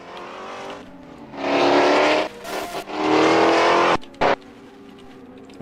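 Race cars of the Group C class at Sydney's SNGP circuit roar past on the track, engines surging loudly in bursts with short lulls between, one car flashing by briefly near the end.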